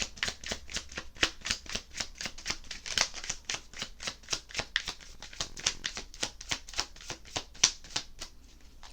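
Tarot cards shuffled by hand in a long steady run of crisp riffling snaps, close and fairly quiet, with no talking over them.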